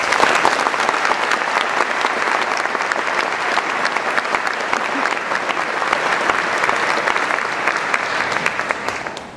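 An audience at a philosophy debate on the existence of God applauds steadily, a dense, loud and continuous clapping from a large crowd that holds for several seconds before tapering off at the end.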